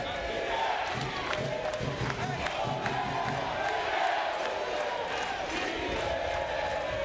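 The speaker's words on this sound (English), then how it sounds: "this Chilean cheering section, finally something to cheer about. Getting a little louder." A Chilean cheering section in the stands at a Davis Cup tennis quarterfinal makes a steady, distant crowd roar with scattered shouts and some claps, under a commentator's voice.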